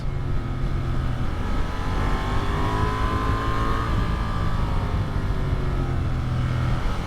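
A Honda Transalp 750 motorcycle accelerating along winding mountain roads, its engine droning steadily with rising and falling pitch as it pulls through gears, heard up close against constant wind rush.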